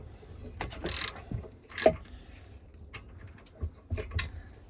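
A ratchet cracks loose an 8mm bolt on a Briggs and Stratton lawnmower engine: a few sharp clicking bursts, fairly close, with quiet pauses between them and no talking.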